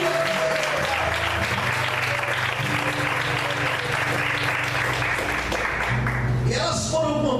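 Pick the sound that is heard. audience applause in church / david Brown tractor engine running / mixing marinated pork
audience applause in church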